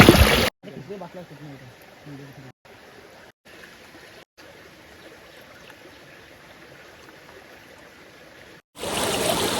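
Water rushes over stones in a small diverted stream channel set up for trapping fish and prawns, a steady close broadband wash with brief voice-like tones early on and louder bursts at the start and end.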